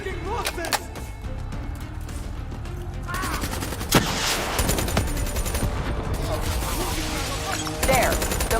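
Gunfire in the Call of Duty: Black Ops III campaign, a steady roar of overlapping shots and bursts with sharp cracks near four and eight seconds, mixed with game effects and muffled voices throughout.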